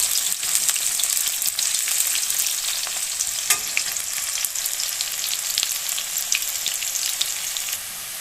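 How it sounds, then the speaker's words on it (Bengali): Onions fry in a pan, a loud continuous sizzle and crackle with occasional stirring scrapes and taps close by, easing slightly toward the end, with no talk. "পেঁয়াজটা লাল করে ভেজে নিই।"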